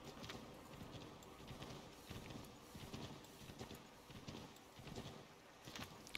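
A horse in the Assassin's Creed 3 video game clip-clops along at a steady walking rhythm in a cold setting, the hooves close and clear with a busy background behind them.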